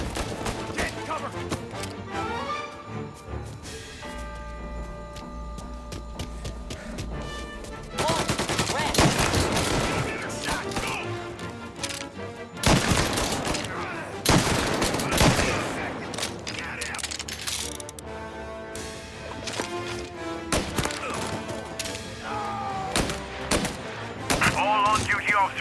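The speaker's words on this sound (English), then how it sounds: "All on-duty officers, gunshots being reported." Gunfire erupts in a mafia shootout, with dense bursts and bangs layered over music and shouting voices. The shots are loudest and most frequent from the middle of the scene onward.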